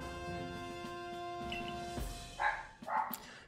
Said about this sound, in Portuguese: Enquanto isso, os Pokémon aqui fora estão latindo.